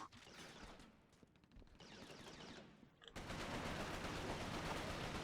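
A Browning machine gun fires in long continuous bursts, dense and rattling, with a brief lull before a heavier sustained volley; distant-sounding and faint overall, with no talking.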